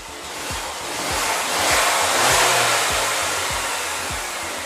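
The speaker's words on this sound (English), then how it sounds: "I'm sure you guys can hear the engine noise" A Mercedes-Benz GLA200 from 2018 with a 1.6-litre turbocharged engine runs with a steady, breathy roar that swells and fades slightly, accompanied by low thumps, heard close with no talking.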